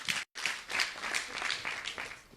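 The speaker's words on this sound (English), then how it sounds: "Thank you for that round of applause for Botswana" Brief, faint audience applause at a national sport awards ceremony, a soft steady patter of many hands clapping at a distance with a short gap near the start.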